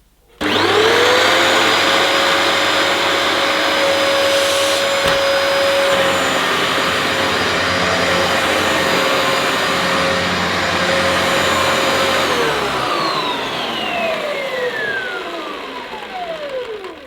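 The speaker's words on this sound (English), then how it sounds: "the vacuum still works" Dyson DC28 vacuum cleaner whines up to a loud, steady roar with a high motor tone, runs evenly for about twelve seconds, then winds down with a falling pitch as it coasts to a stop.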